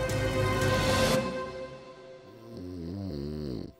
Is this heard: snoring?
yes